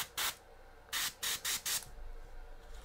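Airbrush spraying primer in short hard bursts: five sharp hissing blasts of varying length with brief quiet gaps between, close to the microphone.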